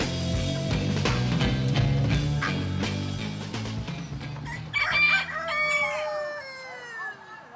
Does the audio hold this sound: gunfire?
no